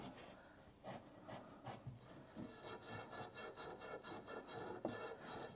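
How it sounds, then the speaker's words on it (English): A copper pipe end being scrubbed clean by hand before soldering a joint, a close, rhythmic abrasive rubbing in repeated back-and-forth strokes, with no talking. "We're just going to clean up the pipe now."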